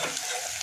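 A large onion, finely chopped, frying in hot oil for egg burji, giving a close, dense crackling sizzle with no voices.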